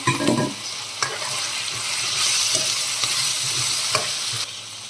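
Garlic cloves fry and sizzle steadily in a pan, loud and close, with a spoon stirring through them every second or so and scraping against the metal.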